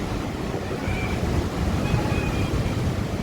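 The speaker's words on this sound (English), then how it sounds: "So we're down here, and it's filling back up with water." Ocean waves wash into Devil's Punchbowl, a rock bowl on the Oregon Coast, in a continuous loud churning rumble mixed with wind buffeting the microphone.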